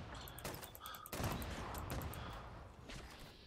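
Grenade blasts and gunfire from a Fallout 76 firefight, with several sharp bursts and a heavy rolling boom near the start, followed by sustained crackling combat noise.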